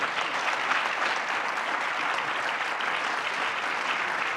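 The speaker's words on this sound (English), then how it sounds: "Can we just have a round of applause for our panel, please?" Steady applause from an audience, a dense wash of clapping that holds evenly for several seconds.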